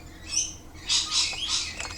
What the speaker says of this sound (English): Noisy birds outside.